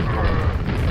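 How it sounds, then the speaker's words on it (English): Grenade launcher firing in the video game Quake, a dense low booming blast filling the whole second, loud and close with a rumbling tail. "Hey, grenade launcher."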